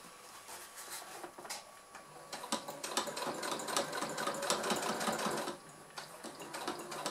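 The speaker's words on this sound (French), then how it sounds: "c'est parti pour ma couture" A sewing machine stitches a beginner's fabric pouch along a traced line, its rapid mechanical whirring rising in bursts, close and steady, with no voices.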